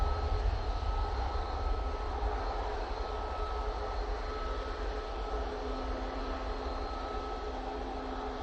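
Airbus A330 airliner engines roar steadily at Manchester Airport, a broad continuous drone at moderate distance with a faint rising tone partway through, no voices.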